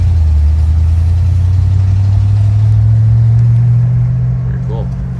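A 1950 Ford F1 pickup with a 289 V8 and three-speed gearbox drives along, its engine holding a steady, loud low drone throughout with road rumble and a faint higher whine near the end.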